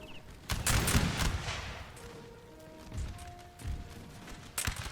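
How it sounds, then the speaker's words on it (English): Several regiments fire musket volleys in a Napoleon: Total War battle near a gatehouse. Loud, crackling bursts of massed gunfire roll out close by, a sustained one early and shorter volleys afterward. "Now that we got 3, maybe as many as 5 regiments fire upon them"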